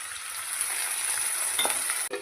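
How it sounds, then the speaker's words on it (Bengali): Salted onions cook in a pan with a little water, hissing in a steady soft sizzle with faint scraping strokes near the end; close, fairly quiet and without any voices. "পেঁয়াজটাকে সেদ্ধ করতে দেবো, তাতে একটু জল দিয়ে দেবো"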